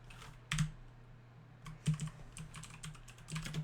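Keys on a computer keyboard are tapped to enter a Linux terminal command, in short quiet bursts of a few clicks each, close by, separated by brief pauses, with no talking.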